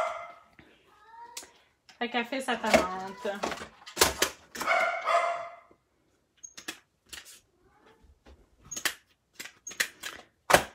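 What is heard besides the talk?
dogs barking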